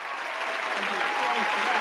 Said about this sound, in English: we gotta give him applause for that.